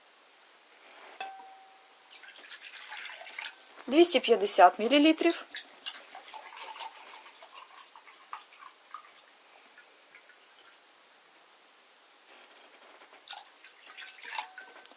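Water is poured into a measuring cup to gauge how much a salad bowl holds. A short, gurgling pour swells and fades, followed by scattered drips, and a voice speaks briefly at the end.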